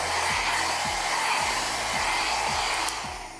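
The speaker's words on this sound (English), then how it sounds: "This itty bitty mini ionic blow dryer does what it says it would do." A mini ionic blow dryer with a diffuser attachment runs close by as a loud, continuous airy whoosh with a faint motor whine, alone and with no talk over it.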